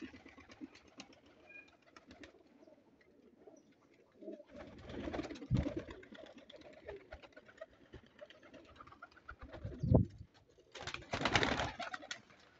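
Pigeons coo in low, throaty bursts nearby, with quieter rustling and wing flutters between the louder calls.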